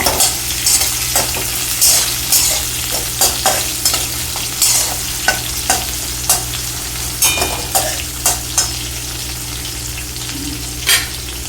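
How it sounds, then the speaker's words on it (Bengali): Onions fry lightly in a pan for a village-style tomato chutney with rohu fish head, giving a loud, close sizzle and rhythmic scraping strokes of a spatula stirring them, with a steady low hum underneath. "পেঁয়াজগুলো হালকা একটু ভেজে নেব।"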